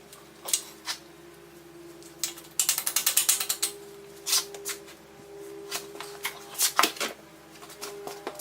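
A hand ratchet clicks as it backs out 13 millimeter bolts on a Jeep JK during a one-ton axle swap, in quick close bursts of pawl ticks with short pauses between strokes.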